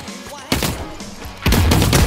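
Grenade blast in The Cycle: Frontier: two loud, close explosive bursts hit roughly a second apart, the second longer and heavier, over a busy game backdrop.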